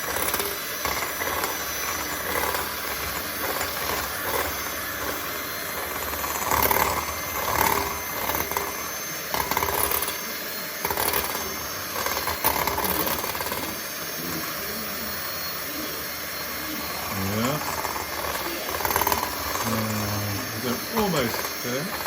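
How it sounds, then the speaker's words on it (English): Electric hand mixer whirring at medium speed while beating egg whites toward soft peaks for meringue, a steady close drone running throughout, with a person talking over it. "on the medium speed, I'm going to beat these to soft peaks"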